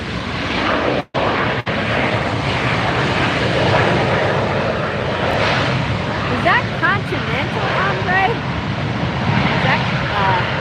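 A Southwest jet airliner arriving at LAX airport makes a steady, loud engine roar that swells and fades slightly, with a brief dropout near the start and chirping sounds and background voices later on.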